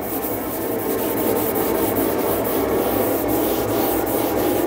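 Continuous rhythmic rasping of sandpaper rubbed back and forth across lacquered wood on a subwoofer box, close and steady, with regular strokes throughout.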